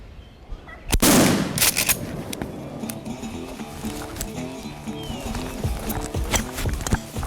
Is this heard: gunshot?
yes